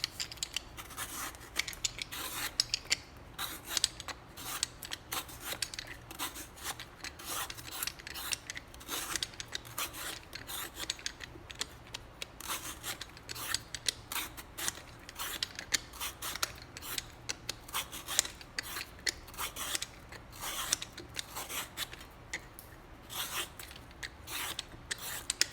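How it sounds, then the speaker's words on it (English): A peeler scrapes the skin off a bottle gourd in quick repeated strokes, a dense, rasping, close scraping rhythm that continues without pause and without speech. "Then I am going to cut it off and peel the skin."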